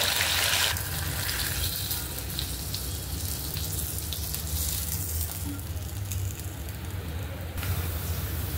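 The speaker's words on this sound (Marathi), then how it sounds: "तर आपल्याला असं एक फिश तळून आपल्या ग्रेव्हीमध्ये यायचं" Surmai fish steadily frying in hot oil, a continuous close sizzle and bubbling hiss that holds even throughout with no talk.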